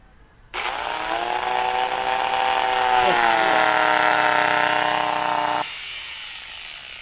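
A cheap $100 power grinder starts abruptly and runs with a loud, steady high-pitched whine, its pitch dipping and wavering midway as it strains, then part of the tone cuts out while a thinner hum continues to the end.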